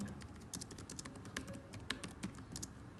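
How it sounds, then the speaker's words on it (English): Soft, rapid keystrokes on a computer keyboard tapping in an irregular stream of clicks, close and quiet with no talking. "I'm typing it down for you so that you don't have to, so that you can just copy paste"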